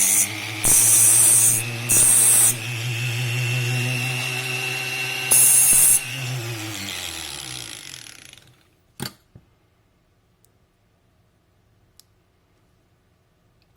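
A fountain pen nib being ground by hand under magnification, giving a close, steady scraping rasp in short bursts with brief pauses, fading to near silence after a few seconds apart from a single click.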